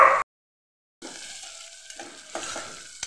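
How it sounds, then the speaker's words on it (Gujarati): Sprouted moong dropped into hot oil with sizzling cumin and asafoetida in a pan; a loud hiss cuts off, then a steady sizzle with stirring scrapes follows, close and alone. "ફણગાવેલા મગ આપણે ઉમેરી દઈશું."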